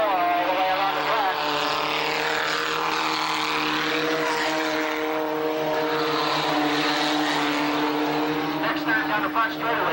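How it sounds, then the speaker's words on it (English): A dirt-track race car, number 17, roars at sustained full throttle around a speedway circuit in 1989, its loud continuous engine note rising and falling slightly as it laps, never easing off, with a voice talking over it. "Keep an ear out for that throttle. He doesn't lift it."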